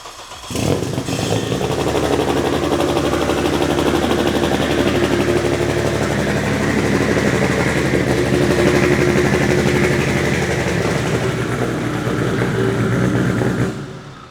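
A race car engine fires up and revs hard through a side-exit exhaust, the loud, steady roar close by and filling the whole stretch before cutting off at the end.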